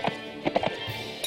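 Horse in the video game Mount & Blade Warband clip-clopping with a few quick hoof thuds, moderately loud and close, against a faint game background.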